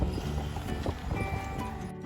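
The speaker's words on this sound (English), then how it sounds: "take a horse and buggy ride" Horse hooves clip-clopping at a steady walking pace on a horse and buggy ride in Jackson, Wyoming, mixed with street and carriage noise at moderate loudness.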